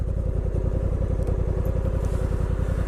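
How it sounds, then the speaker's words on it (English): A 2022 Honda NT 1100 DCT touring motorcycle with a 270-degree-crank V-twin runs at a steady, throbbing beat while riding, loud and close, with an even pulsing rumble throughout and no voices. "It's got that V-twin sound because of the 270-degree crank."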